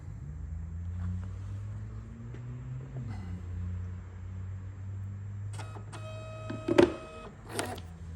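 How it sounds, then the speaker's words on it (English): Wi-Fi label printer in an office running a print job, a low steady motor drone with a small pitch shift, followed by short sharp mechanical clicks and whirs near the end. "This is a Wi-Fi printer, so you can see we have our office printer."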